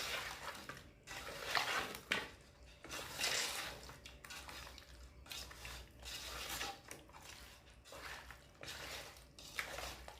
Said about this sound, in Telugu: బాగా కలిసేదాకా మిక్స్ చేసుకోవాలి